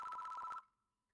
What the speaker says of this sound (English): The phone begins to ring.